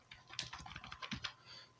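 Fingers typing quickly on a computer keyboard while HTML is written, a close, crisp run of uneven key clicks and taps over a couple of seconds with no talking.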